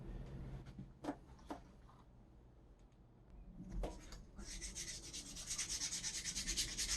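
Leather is sanded lightly with sandpaper, with a few faint isolated rubbing strokes early on, then a steadier soft scratching rasp building up close during the last few seconds.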